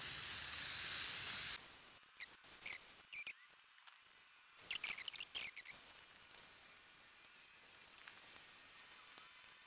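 Paint thinner sprays onto a bike frame, hissing loudly and steadily at first, then stopping, followed by scattered short sprays and faint scraping sounds.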